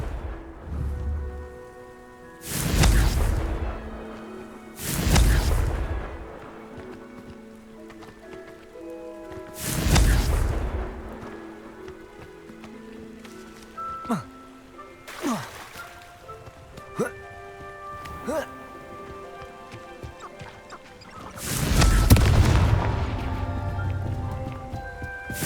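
Fiery Confringo spell blasts in the Hogwarts Legacy video game: five loud, booming bursts at irregular intervals, each swelling and fading over a low tonal background.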